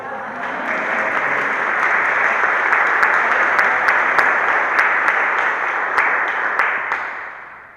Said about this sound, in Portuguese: Se você crê, aplaude o Senhor.